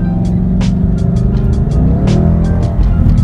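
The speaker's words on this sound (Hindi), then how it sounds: "इसका एग्जॉस्ट काफी तगड़ा है" A Ford Mustang GT with a loud exhaust revving: a heavy, steady engine rumble dominates, dotted with quick crackles and pops, close and loud throughout.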